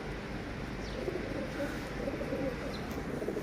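Pet pigeons coo softly at home, a low steady murmur of cooing beneath a constant hum of background noise, with no clear individual calls standing out.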